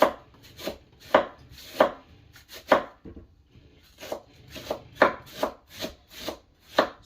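White cabbage being chopped with a knife on a board, a series of crisp, close cutting thuds in an irregular rhythm, with no one talking.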